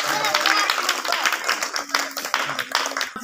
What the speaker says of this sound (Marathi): टाळ्या वाजवा सगळ्यांसाठी।